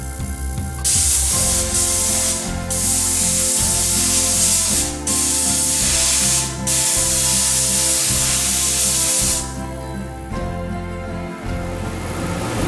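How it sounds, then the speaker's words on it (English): A loud, close hiss of pressurized steam from a steam cleaner spraying white gold jewelry, bursting out in long sprays with brief pauses, over a constant mechanical hum. "we'll steam clean it prior to our rhodium process"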